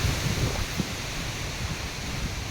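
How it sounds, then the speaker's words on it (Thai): Strong wind blowing across the grounds of a temple, a steady low rumble of gusts buffeting the microphone with a soft broadband rush and no voices. "ลมแรงมากเลยนี่"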